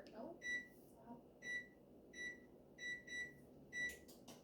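Oven timer being set, giving a run of short, bright electronic beeps spaced unevenly across a few seconds, close and clear over a quiet room with faint background rustle.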